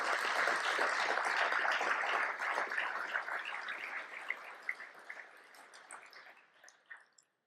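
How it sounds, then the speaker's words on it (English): Faint, distant applause from an audience at an agricultural retailers' association meeting, a dense wash of clapping that slowly fades into a few scattered claps. "So let's give them a huge round of applause."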